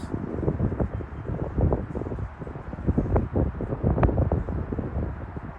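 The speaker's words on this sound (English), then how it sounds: "It's a little windy out." Steady wind buffets the microphone, a rough low rumble with gusty bumps throughout and no voices.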